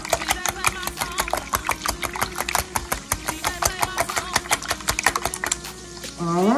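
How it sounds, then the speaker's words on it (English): Eggs are whisked by hand in a bowl: a rapid, steady rhythm of close, sharp clicking taps continues throughout. "So I'm whipping my eggs."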